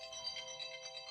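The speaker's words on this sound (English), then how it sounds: "that's my alarm reminding me to schedule tomorrow's episode" A phone alarm chimes a bright, steady electronic reminder tone, ringing continuously and alone at low volume for about a second.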